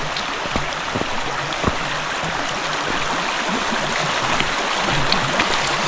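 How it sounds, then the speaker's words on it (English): Water churns and splashes continuously nearby, with a few sharper sloshes as someone wades through it on the trail from Portage Pass to Portage Glacier. "I'm just kind of splashing through."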